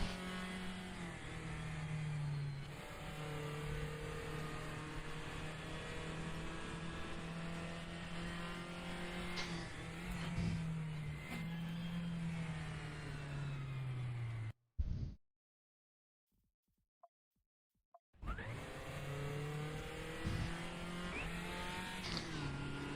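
A race car laps Sonoma Raceway in the RaceRoom racing game, its engine loud and continuous as it revs up and down through the gears with tire squeal. It cuts to near silence for a few seconds before the engine returns.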